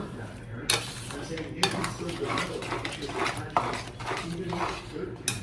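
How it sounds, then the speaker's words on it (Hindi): Sarson ka saag roasting in a pan as a spoon scrapes and stirs it, with repeated metallic clanks and a soft sizzle, close and fairly loud, while a person talks over the cooking. "ये यहाँ हमारा साग भुन रहा है"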